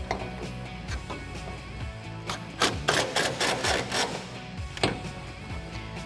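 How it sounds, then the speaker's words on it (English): A 3/8-inch electric impact gun fitted with a 5/16 Allen bit tightening a bolt during a RAM 1500 suspension lift install, giving a quick run of sharp rattling hammer bursts up close. "I'm going to take my 3/8 electric impact gun with my 5/16 Allen and tighten this up"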